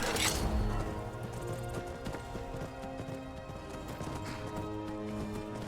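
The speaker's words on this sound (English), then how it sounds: "It's like surprisingly hard to turn this horse." A horse in the Skyrim video game gallops with steady, rhythmic clip-clop hoofbeats over a dense game soundscape, moderately quiet and with no speech.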